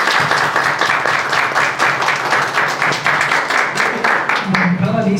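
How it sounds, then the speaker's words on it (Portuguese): Audience applause at a socio-education seminar, honoring a master's student after questions; a steady roar of many hands clapping with fairly even rhythm, loud and close, tapering off near the end. "Uma salva de palmas para ela"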